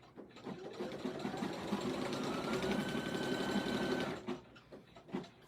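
An embroidery machine stitches a placement circle for an eyelet on an appliqué sports ball bag tag. The needle chatters rapidly and steadily for about four seconds, then stops, leaving a few scattered clicks and knocks.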